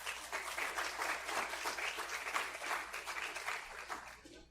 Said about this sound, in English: I think you deserve another big applause.